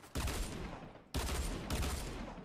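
Dense, continuous gunfire bursts in a game, loud and close, with a brief gap before the rapid shooting resumes.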